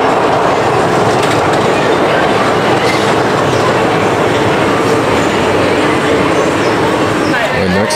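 The Seven Dwarfs Mine Train roller coaster at Magic Kingdom rolls along its tracks with a steady, dense rumble and clatter, continuous and close, with faint metallic squeals.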